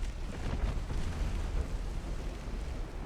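Deep booming salvos from 9-inch naval guns in the game Ultimate Admiral Dreadnoughts, a continuous low rumble of heavy blasts rolling together, fairly loud and with no voices.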